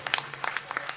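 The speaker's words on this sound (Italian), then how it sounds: "l'applauso se lo merita tutto" An audience claps for a folk orchestra musician at a Romagna folklore gathering: scattered, moderately close handclaps that are brief and fairly sparse.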